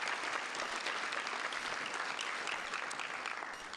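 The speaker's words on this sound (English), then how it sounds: "Let's give them a round of applause" An evening gala audience claps for honoured medical students in a continuous, dense round of applause that fills the room and fades slightly at the end.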